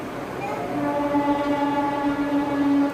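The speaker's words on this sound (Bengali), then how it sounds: "ট্রেন যাচ্ছে," A train passing nearby with a steady rumble and a sustained horn-like tone drawn out over several seconds.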